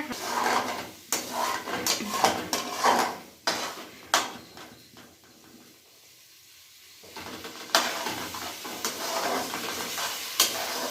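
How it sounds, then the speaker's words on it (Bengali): Chowmein for a picnic is stirred in a frying pan, with scraping spatula strokes and a light sizzle in close, rhythmic bursts, a short quieter pause near the middle, and no talk. "আর একটু নাড়াচাড়া করে নেবো 2 মিনিট মতো।"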